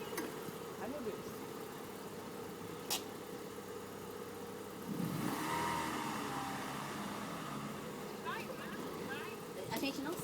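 A car engine hums at a moderate level, idling and then briefly revving up near the middle before settling back into a steady drone.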